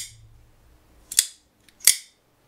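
The blade of an Alliance Designs Mini Slim Pickins Full Dress pocketknife snaps shut twice, each a sharp, bright metallic click with a brief ringing tail, close and isolated against near silence.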